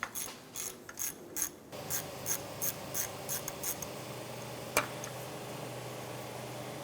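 A hand ratchet clicks in quick, close bursts while loosening a starter bolt on a 2006-2013 Chevrolet Impala, followed by a single sharp metallic tick and quiet background.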